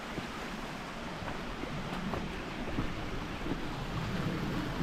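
A small creek crossing on a windy hiking trail at Hanging Rock State Park, North Carolina, rushing steadily over rocks, a continuous close broadband wash with wind noise mixed in throughout.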